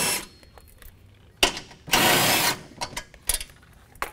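A 10 mm socket ratchets out the muffler bolts on a Polaris RZR 1000 side-by-side during a turbo install, with brief clicking and scraping bursts and one longer grinding ratchet run, close up.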